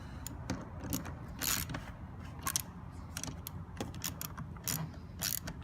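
A ratchet wrench clicks in quick, faint bursts while tightening the passenger-side mirror bolts on a 2008-2009 Ford Taurus X / Freestyle, with a low steady background hum and no speech.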